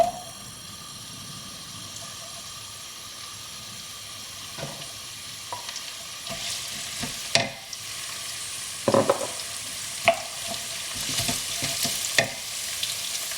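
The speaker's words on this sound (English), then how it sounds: "once the oil is hot, which will take about 30 seconds or so, we're going to add the onions" Onions fry in hot oil for a Bangladeshi king prawn bhuna, a steady close sizzle with occasional stirring scrapes and clinks that grow busier toward the end.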